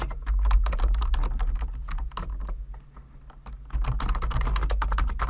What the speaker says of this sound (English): we're going to type what they want